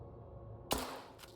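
A single gunshot cracks out sharply in the S.T.A.L.K.E.R. 2 video game, a loud close burst that decays quickly over a low ambient hum, followed by a fainter echo.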